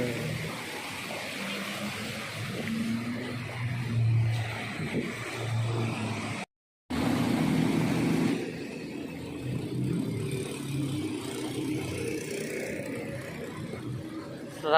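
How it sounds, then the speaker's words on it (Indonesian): Cars creeping slowly through tidal flood water in front of the Pluit reservoir pump house in Jakarta, a low engine hum with splashing and sloshing water, steady with a short cut midway. "Mobil pelan-pelan"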